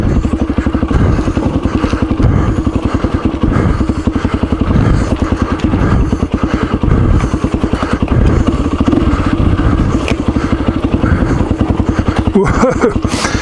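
An old Yamaha WR dirt bike being ridden, its engine loud and close with a continuous rapid throbbing beat, rising and falling with the throttle, and a few thumps near the end.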